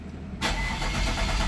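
An Infiniti M35 fitted with a computer that doesn't belong to the car cranks without starting, a loud, close, steady whirring churn that kicks in abruptly after a brief quiet moment and carries on without catching.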